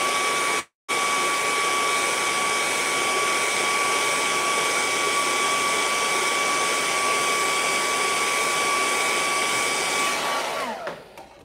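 A hair dryer blows steadily on a painting with a loud, constant whine-laden roar, broken by a brief cutout near the start and winding down at the end.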